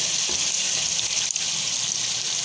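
Tomato masala with yogurt sautéing in a pan, a soft continuous hissing sizzle with a faint stirring scrape partway through, no voices.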